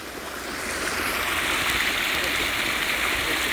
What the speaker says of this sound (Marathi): ब्रिटिशकालीन मुख्य जलवाहिनी मोठ्या प्रमाणात गळती होत असल्याचे उघड झाले असून लाखो लिटर पाणी थेट नाल्यात वाया जात